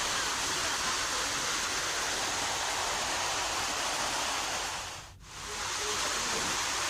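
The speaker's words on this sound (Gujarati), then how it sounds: "ડુંગર ઉપર મુશળધાર વરસાદ વરસતા પગથિયા ઉપર વરસાદી પાણી વહેતા થયા" Heavy monsoon rain pours steadily on Pavagadh hill as rainwater runs down the stone steps, a dense continuous hiss that briefly dips near the end.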